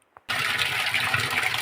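Water gushing from a pipe into a house after a motor is switched on, starting abruptly after a brief knock and running as a steady close splashing rush.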